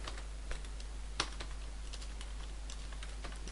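Typing on a computer keyboard during coding, a rapid irregular run of light key clicks with a couple of sharper louder strikes, close up over a steady low background hum.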